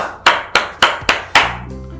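One person claps five times in a slow, even rhythm, close and loud, to praise a student reporter, each clap sharp and separate before a brief ringing tail.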